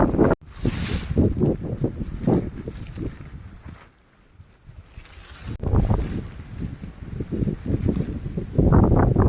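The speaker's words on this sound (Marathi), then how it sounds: "हवा खूप आहे इथे" Strong wind in a farm field beside a canal roars and buffets against the microphone in heavy, continuous gusts, easing briefly in the middle before surging loud again.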